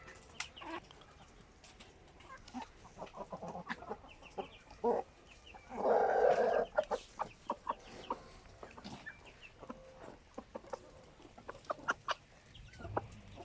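Chickens cluck and scratch around nearby, with a louder burst of rooster calling in the middle amid scattered clatter.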